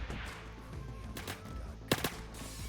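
Gunfire in the Roblox shooter Phantom Forces, a sharp burst of shots near 1.9 to 2.1 seconds standing out over a busy game background.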